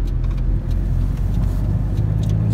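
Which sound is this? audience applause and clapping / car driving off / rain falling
car driving off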